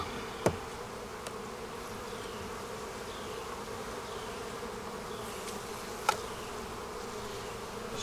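Honeybees buzzing steadily around beehives being moved into a bee barn in early spring, a continuous close hum with a couple of individual bees zipping past the microphone.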